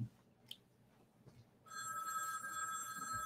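A telephone starts ringing partway through, a steady electronic ring that carries on loudly to the end over quiet room noise, with no talking.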